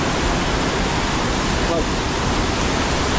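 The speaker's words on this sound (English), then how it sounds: "Not floodwaters, but irrigation canal waters. Making a lot of noise this morning." Loud, steady rushing of irrigation canal water near Dumaguete in the Philippines, a dense broadband roar filling the whole clip with a brief spoken word over it.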